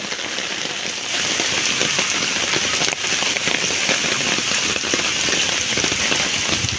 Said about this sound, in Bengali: আসো, আবার বৃষ্টি বাড়ছে।